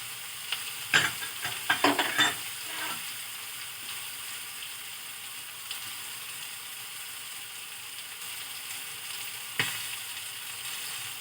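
Steady sizzling of bitter gourd frying in a pan over an open gas flame, with a few clattering stirs near the start, then a continuous hiss with one brief clink later on.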